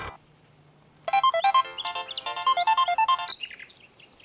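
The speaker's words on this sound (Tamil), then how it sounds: "உன் ஃபோன் தான் அடிக்குதுப்பா." A mobile phone ringtone plays a bright, chirpy melody of quick repeated tones, starting after a brief quiet and continuing loudly for a few seconds before fading out, with no talking over it.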